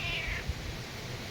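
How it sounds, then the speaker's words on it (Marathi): A pet cat gives a single short, faint meow at the start, heard against a steady roar of night wind and rain. "गोल्या नुसतं चिकडून तिकडून मियाव मियाव करतोय."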